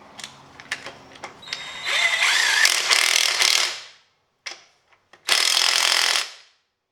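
A Bauer 20V 1/2-inch cordless impact wrench struggles against a stubborn fastener, giving several short hammering bursts with clicks and pauses between them, close and fairly loud.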